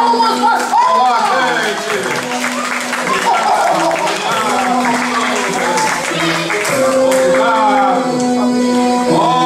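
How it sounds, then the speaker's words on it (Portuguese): Audience applause at a cultural show in Niterói, Rio de Janeiro, a steady, loud wash of clapping lasting throughout, with voices calling and talking over it. "Mais palmas, mais palmas!"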